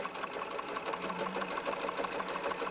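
A sewing machine runs continuously, top stitching the collar band of a small doll shirt with a fast, even mechanical rattle, close and alone without talk.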